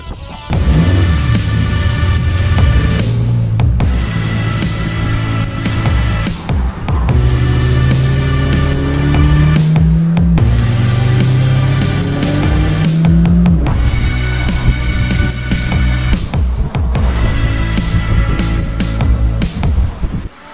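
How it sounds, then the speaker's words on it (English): A Skip Barber Formula 4 race car screams at high speed on track, its loud engine note rising through repeated gear shifts with brief dips between them, sustained and close throughout. "we were strapped into the Formula cars, starting with one high-speed lead-follow session"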